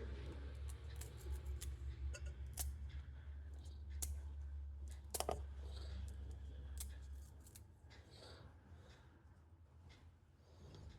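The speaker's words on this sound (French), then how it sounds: "Pareil que je découpe au ciseau." Scissors snip through food at lunch prep, a series of sharp, close metallic cuts and clicks coming in irregular bursts over a low steady hum, quiet overall with no talking.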